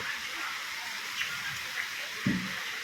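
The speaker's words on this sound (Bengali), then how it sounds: "কত জোর বৃষ্টি পড়ছে" Heavy morning rain falls in a steady, dense hiss with no break, joined by a few duller thuds and splashes nearby.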